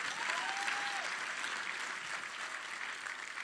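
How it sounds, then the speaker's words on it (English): Audience applause fills the PAX East main theater at a Gearbox show, a dense, steady wash of clapping and crowd noise that carries on for the whole stretch, with a brief whistle near the start. "You may applaud."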